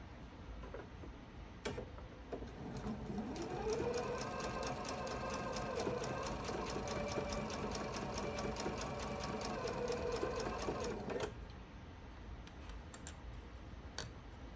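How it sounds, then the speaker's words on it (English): A sewing machine stitches quilt block pieces at a scant quarter-inch seam, running in a steady close whir of rapid needle ticks for several seconds, with quieter handling clicks before and after. "And I'm going to sew until I get close to that pin without running over it."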